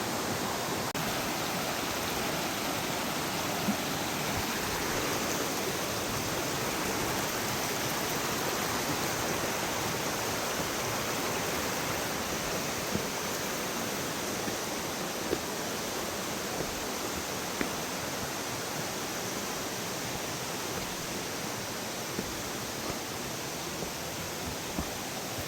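Water of West Canungra Creek rushes steadily at a crossing, a dense unbroken hiss filling the scene with no voices.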